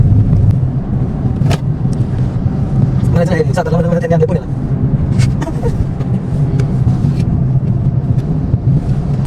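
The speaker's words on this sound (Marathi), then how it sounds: "सूरज भाऊंनी चालवायला गाडी आता आपल्याकडे दिली" A car drives through Katraj ghat near Pune with a steady, low engine and road rumble throughout. Other traffic passes briefly, and people talk over the drive.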